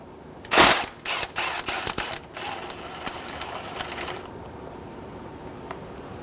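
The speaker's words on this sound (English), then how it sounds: "Using a 19mm socket, we're going to remove the crank bolt" A ratchet turns a 19mm socket on the crank bolt of a 2003-2008 Honda Pilot, giving a sharp metallic clank and then a run of quick, close clicks that taper off into quiet.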